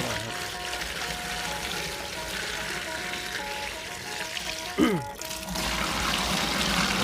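Water, about ten kilograms, is poured steadily into a mild microbial ferment mix made with molasses, a constant broadband rush under faint tonal background sounds, with a brief swooping sound near the end.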